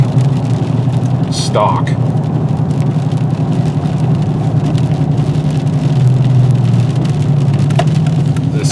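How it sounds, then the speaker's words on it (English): Dodge Challenger SRT8 with a 392 Hemi V8 and Flowmaster exhaust, a loud continuous engine drone under rain-like road noise while driving, with someone talking over it. "You can definitely feel the power of that Hemi motor"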